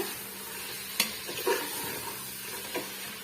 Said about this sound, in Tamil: நம்ம எடுத்து கட் பண்ணி வச்சிருக்க காயை வந்து நம்ம இதோட சேர்த்துக்கலாம் சேர்த்துட்டு நல்லா வந்து மிக்ஸ் பண்ணி கொடுத்துக்குங்க